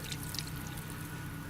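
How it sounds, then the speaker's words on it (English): Water pours onto the cylinders of a Dnepr sidecar motorcycle outdoors in winter, a faint, brief splashing trickle over a low background hum. "I'm gonna pour it just to the cylinders, just on the cylinders here"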